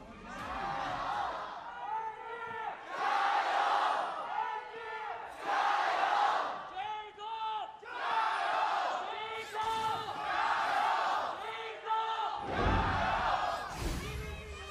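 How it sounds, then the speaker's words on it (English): Loud arena crowd at a LPL Summer 2018 semifinal, JingDong Gaming fans against Invictus Gaming, roaring and chanting in rhythmic surging waves, with a commentator's voice over the din. "It's the loudest we've heard from the JingDong crowd"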